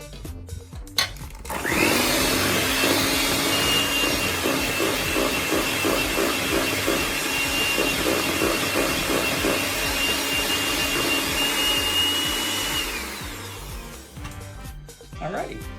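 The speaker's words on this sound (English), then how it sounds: "get all of that down in there so the mixer can catch it and get it all mixed in" A stand mixer whirs steadily at high speed as it beats cheesecake batter, a loud continuous motor drone holding for about eleven seconds before winding down, with bowl scraping just before.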